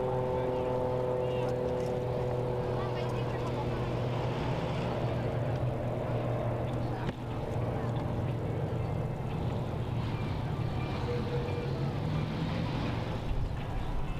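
A V-22 Osprey tiltrotor arrives over an airshow at Huntington Beach, California, its steady, heavy droning hum carrying on continuously and loudly, with a rhythmic rotor throb underneath.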